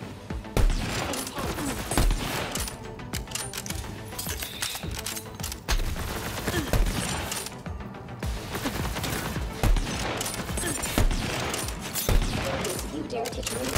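Rapid, dense gunfire from Borderlands 3 combat, near and loud, with bursts and sharp repeated cracks running almost continuously alongside explosive thumps and game effects.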